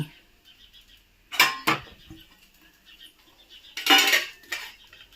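A plate is picked up in a home kitchen while pesarattu dosa is being made, with two separate bursts of ceramic clatter and clinks, close by and sharp against near silence.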